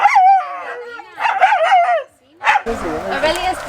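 Dogs at an elephant sanctuary in Unawatuna, Sri Lanka, bark and howl in several close, loud, yelping bursts, followed by a noisier stretch of barking, with a voice mixed in.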